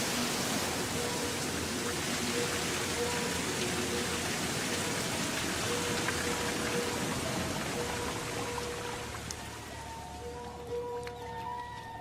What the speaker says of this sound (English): And when it rains at the mountain's feet